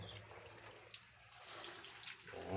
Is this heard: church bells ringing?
no